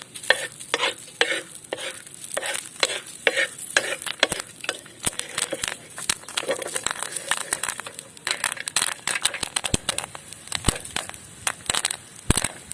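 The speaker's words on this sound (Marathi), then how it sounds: "तर थोडा वेळ असं हलवीत राहायचं आहे म्हणजे पॉपकॉर्न तयार होते" Corn kernels pop in hot oil in a pan while being stirred, giving dense, irregular crackling bursts and rapid pops that run continuously at close range, with no talking.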